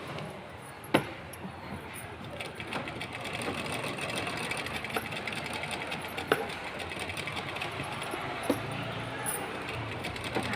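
Sewing machine stitching across lining cloth for a dress, a steady fast mechanical whir with occasional clicks and clacks, close and fairly quiet, with faint talk in the background.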